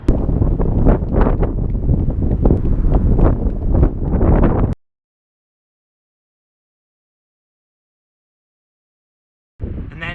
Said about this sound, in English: actually the wind really picked up, it's headwind